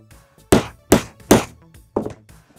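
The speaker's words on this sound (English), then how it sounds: "And now you need to hammer it." Three sharp metal-on-metal hammer blows on a grommet setting tool in steady succession, then two lighter taps, close and loud with no talking.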